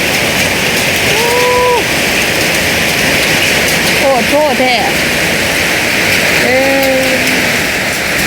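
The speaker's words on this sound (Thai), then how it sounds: "ฝนตกฝนลงเลยพี่น้อง พายุเขาเนาะ" Heavy storm rain pours down as a loud, constant roar that fills the whole scene, while someone talks intermittently over it.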